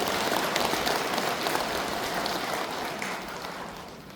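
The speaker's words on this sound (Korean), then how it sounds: "찬탄의 박수 한번 부탁드립니다" A congregation at a Buddhist dharma service breaks into sustained applause, a thick wash of many hands clapping that slowly tapers off.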